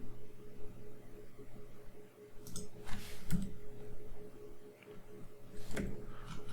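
Computer keyboard typing while searching for a curtain wall profile in Revit 2024: a few scattered, brief clicks at irregular intervals over a low steady background hum, fairly quiet and close.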